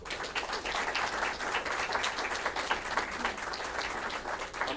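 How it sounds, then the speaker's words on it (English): An audience at a National Reconciliation Week event applauds a panel, sustained dense clapping from a sizeable crowd heard at moderate distance, steady and unbroken for the whole stretch. "Can we give them a really big round of applause?"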